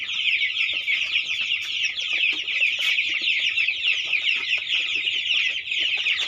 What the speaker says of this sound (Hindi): ये मोर 200 चिक्स पड़ी